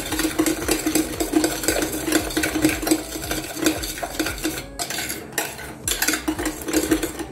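Cake batter with a whole egg being mixed by hand in a bowl for banana passion fruit cupcakes, a close, continuous rhythmic scraping and clinking of utensil against bowl with brief pauses.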